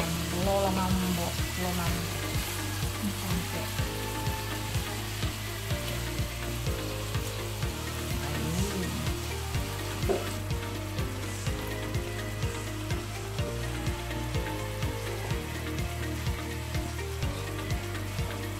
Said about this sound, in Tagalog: Kasi pinipirito ko rin kasi yan.